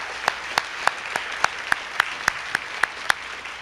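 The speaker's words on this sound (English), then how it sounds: "Let's give everybody one more round of applause" An audience at a YMCA annual celebration claps in a slow, even rhythm, about a dozen crisp, evenly spaced claps that ring out loud and near.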